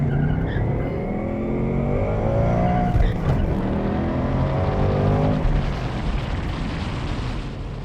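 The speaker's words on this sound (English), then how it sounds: "A little too much wheel spin on that one, so we'll try it again." A 2024 Ford Mustang GT with a 5.0 V8 launches hard from a standstill for a 0-60 run, engine roaring loud and close as the tires spin and squeal, the note climbing through the revs before easing off.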